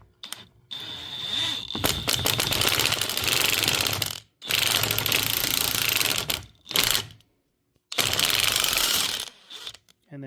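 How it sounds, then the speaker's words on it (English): Impact driver driving a bolt into a clamp on a YuanMech N956 tire changer, loud rapid hammering bursts of several seconds each, broken by short pauses and a brief stop-start burst, close by. "I'm going to use an impact driver just to help get it down in there."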